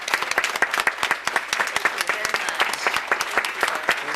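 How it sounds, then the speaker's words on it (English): A room at a town board meeting breaks into a brief round of applause for a neighborhood association, close, dense clapping from a modest crowd. "please give a round of applause to the Nowadaga Neighborhood Association"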